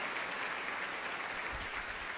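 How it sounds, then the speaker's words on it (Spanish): Church congregation clapping loudly during a Spanish-language sermon: a dense, continuous wash of applause that holds at the same level throughout. "Fuerte el aplauso"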